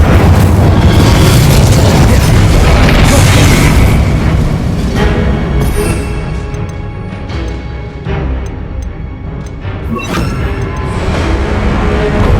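Confringo spell explosions in the video game Hogwarts Legacy: heavy booming blasts and crashing debris, loudest at first, easing in the middle, then swelling again with another burst near the end.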